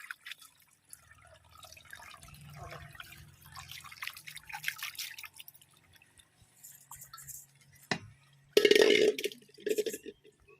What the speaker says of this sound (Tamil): சிக்கனை கழுவிக்கலாம்.